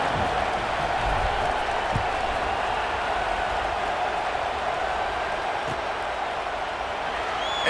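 A simulated stadium crowd at a college football game in EA Sports College Football 26 keeps up a steady, dense roar and murmur with scattered cheering, continuous and broad throughout, with commentary voices faintly under it.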